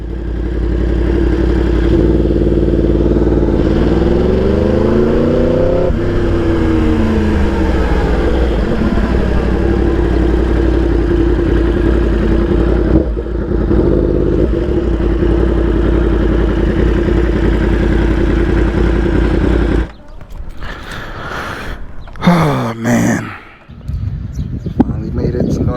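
A motorcycle engine drones loud and steady while riding, rising and falling through gear changes, then cuts to quieter, broken rumble near the end; someone talks over it throughout.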